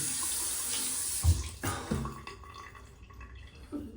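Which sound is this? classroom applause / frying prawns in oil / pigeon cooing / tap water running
tap water running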